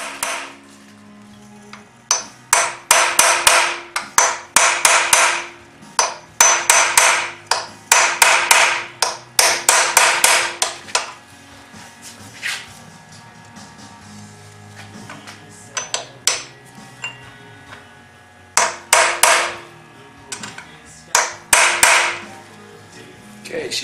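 Loud metallic hammer blows drive a new steering head bearing race into a DRZ 400 motorcycle, coming in rapid bursts of ringing strikes with short pauses between them.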